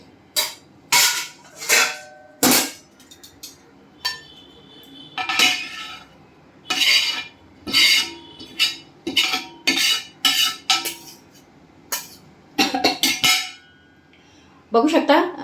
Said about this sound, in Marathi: आता मी एका डिशमध्ये ठेवते याला.